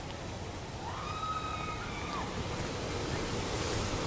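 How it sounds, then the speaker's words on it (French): Water ride splashing at the Bagatelle amusement park: a steady, loud rush of churning water fills the whole stretch, with a brief high whistling tone rising over it near the middle. "Oh là, ça éclabousse bien."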